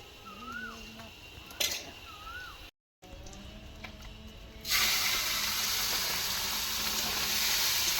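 Fish frying crispy in hot oil, starting as a low sizzle under faint ambient sounds and then swelling into a loud, dense, continuous hiss after a brief silent gap.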